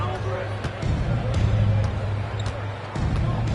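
Basketball dribbling in NBA 2K23, a steady series of ball bounces on a hardwood court under game crowd noise, with commentators talking over it.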